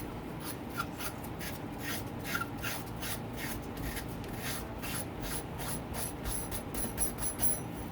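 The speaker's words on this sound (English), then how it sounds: "You can use a punch here, loosen this up, lock ring." A metal punch taps and scrapes against the lock ring on the rear shock spring of a Yamaha YZ dirt bike. The bursts of clicking and grinding repeat in a rough rhythm, close and fairly quiet, with no voices.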